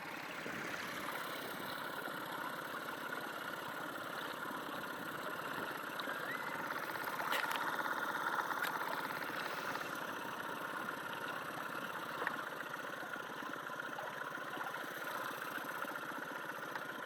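A low, steady boat engine idles faintly in the background, a constant soft rumble with no voices.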